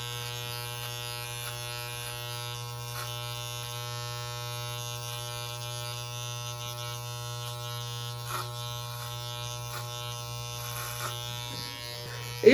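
Electric hair clippers run steadily while shaving a head, giving a constant close buzzing hum with a few faint bumps as the blades move through the hair.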